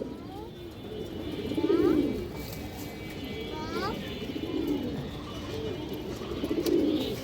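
Black-necked pigeons coo in repeated soft, throaty phrases at a steady rhythm, close by, while someone talks over them.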